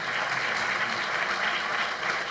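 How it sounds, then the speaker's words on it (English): A colloquium audience applauds an economics panel, a dense, steady wash of clapping from a large crowd that carries on loudly throughout. "let's give another round of applause to tonight's excellent panel"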